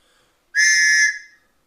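One brief, piercing toot comes from a little whistle out of a 1960s all-purpose storm kit, held for roughly half a second at close range with quiet before and after.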